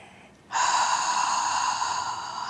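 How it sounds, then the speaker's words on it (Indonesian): A deep, steady inhalation during a seated chair stretch for lower-back relief, a close, loud airy rush that starts abruptly after a brief quiet moment and holds evenly for about two seconds. "Satu napas lagi, inhale."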